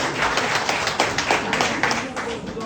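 Audience clapping at an outdoor gathering, a brisk, fairly close run of many hands with some distinct claps standing out, continuing steadily under talking voices.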